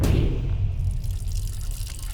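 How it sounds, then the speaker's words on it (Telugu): A broken water tap under repair that cannot be shut off, giving a steady wet hiss of running, dripping water that starts strongest and then settles into a constant trickle. "నువ్వెంత కట్టినా ట్యాప్ ఆగదమ్మా, అది రిపేర్లో ఉంది"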